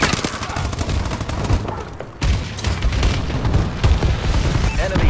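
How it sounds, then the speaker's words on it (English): Friendly bombing run in Call of Duty: Advanced Warfare, a dense barrage of loud overlapping booms and gunfire-like blasts rumbling continuously, with a brief dip midway before the explosions resume hard. "Friendly bombing run clearing the way."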